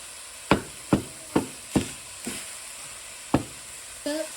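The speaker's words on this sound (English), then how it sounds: "So you wanted to pour all the sausage in here and just break it up" Sausage sizzling in a pan as a utensil breaks it up, a steady frying hiss punctuated by about seven sharp scraping knocks spaced roughly half a second apart, close and clear, with no talking.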